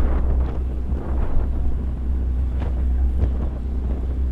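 Headwind gusting across open water during a collegiate lightweight men's rowing race, a broad low rumble of wind buffeting the microphone with occasional stronger gusts, continuous and close, no voices.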